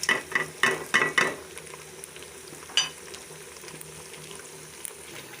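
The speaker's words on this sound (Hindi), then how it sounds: "अब हम सब मसाले इसमें डालकर भून लेंगे।" Ginger, garlic and spices fry in a pot for beef paya, a few sharp scraping stirs up front, then a soft steady sizzle carrying on faintly.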